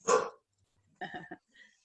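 A dog gives a sharp, close bark, then after a pause a quick run of two or three softer yips, with a faint whimper trailing at the end.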